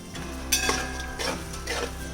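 Yogurt and spices are stirred into chicken pulao in a pot. Three or four close, rasping spoon scrapes sound over a low sizzle.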